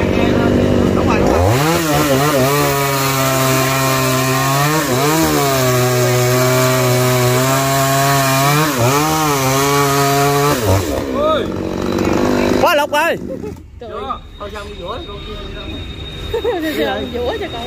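A chainsaw cuts into a large Gõ tree trunk outdoors, its loud engine rising and falling in pitch for about ten seconds before cutting out, followed by engine sputters and people talking nearby.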